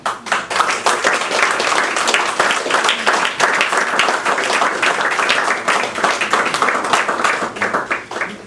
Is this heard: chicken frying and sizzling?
no